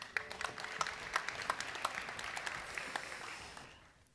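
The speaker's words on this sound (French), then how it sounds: "nous applaudissons aussi les absentes et les absents" Faint, distant applause from an audience at a bachelor's graduation ceremony, an even patter of many hands that fades away at the end.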